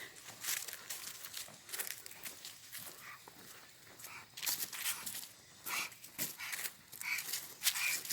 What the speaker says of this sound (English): that's the sound you're hearing is our little dog